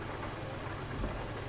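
Steady rain falls in Euro Truck Simulator 2 during a truck drive from Debrecen, Hungary to Genoa, Italy, a dense, even hiss of drops that swells slightly near the end.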